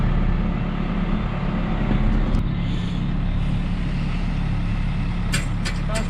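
A skid steer engine runs at a steady, loud diesel drone throughout, with a few brief sharp hisses and clanks near the end, and no talking.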